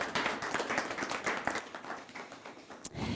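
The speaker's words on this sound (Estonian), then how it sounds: "Ja võime väike aplaus." Audience applause in a hall after a talk on preparing for a business exit, dense steady clapping running the whole length, fairly close and full, fading slightly near the end.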